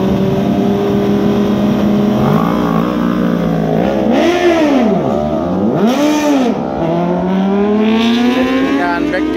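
A drag racing motorcycle revs hard through a burnout, engine pitch sweeping up and down in loud, close swells over a constant roar, with a faint tire squeal underneath.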